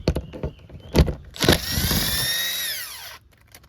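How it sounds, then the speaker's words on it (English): Power tool removing bolts on a Toyota RAV4 during an engine coolant change, short sharp bursts followed by a longer whirring spin-down, close and loud with no talking. "So remove all the bolts."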